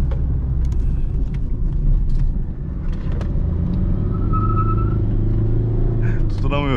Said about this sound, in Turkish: Şu torp patlamaları